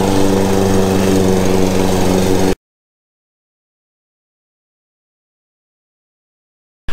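A Toro gas lawn mower engine runs loud and steady up close for a few seconds, then cuts off abruptly into silence before a brief return at the very end.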